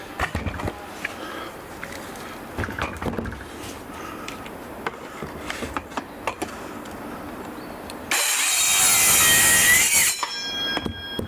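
A saw blade cutting during UPVC window work on a camper, rising to a loud, harsh, steady burst for about two seconds near the end after quieter scattered knocks and handling noise.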